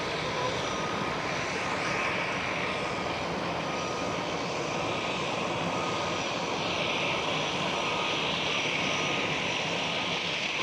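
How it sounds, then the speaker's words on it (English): A Transavia airliner taxis out at Amsterdam Schiphol Airport, its jet engines giving a loud, continuous broadband roar with a steady whine that holds without a break. "Transavia is taxiing out already."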